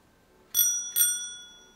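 A bicycle bell on a toy car rings twice in quick succession, bright and close, each ding ringing out briefly in otherwise near silence.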